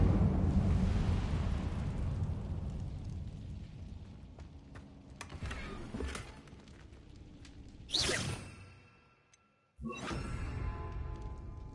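Incendio fire spell in a wizard video game: a long roaring whoosh of flame swells and fades, then a sharp burst flares near the end, a brief silence, and the rumbling roar resumes.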